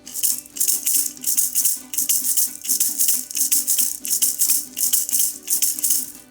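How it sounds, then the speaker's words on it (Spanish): Steady rhythmic maraca shaking from the Parranda de San Pedro tradition of Guatire, Venezuela, bright rattling bursts repeating in a quick even pattern over a low background, close and fairly loud. "Y la maraca suena así."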